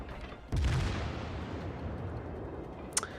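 Heavy battleship guns in World of Warships fire at the aircraft carrier Langley: one deep booming report with a long rumbling decay, then a sharp faint crack near the end.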